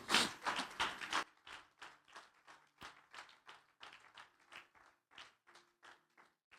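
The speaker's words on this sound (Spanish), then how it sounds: "Démosle palmas al Señor" Church congregation clapping for the Lord: a dense burst of loud hand claps at first, then settling into a steady rhythmic clap, roughly two to three per second, close and alone with no talk.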